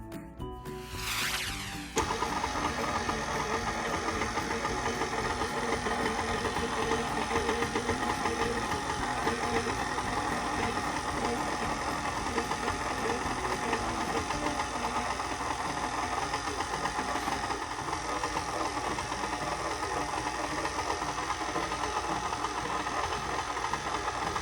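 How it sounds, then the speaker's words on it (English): A stand mixer with a hook attachment kneads coco-pandan dough. A sharp clatter opens it, then a steady, loud motor whir with a faint rhythmic knock runs without pause. "We will be using the hook attachment to mix everything together."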